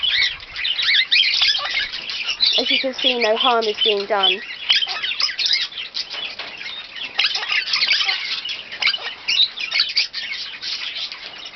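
A flock of birds foraging on feeding grass, chirping, calling and squabbling continuously at close range, with a voice speaking partway through.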